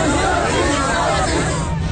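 Protesters at Jantar Mantar, Delhi, crowd together and shout slogans, a dense continuous roar of many voices that stays loud and steady throughout.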